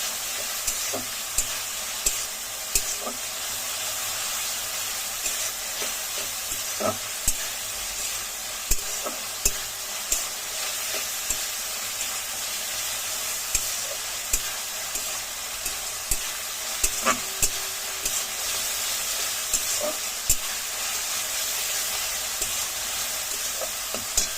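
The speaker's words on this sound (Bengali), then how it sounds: "ভালো করে কিছুক্ষণ কষাবে, যাতে আদা রসুনের পেস্টের গন্ধটা চলে যায়।" Ginger garlic paste and green chilies sauté for rui fish curry in a pan, a steady sizzle and hiss broken by repeated scraping clicks of a spatula stirring throughout, with no talking.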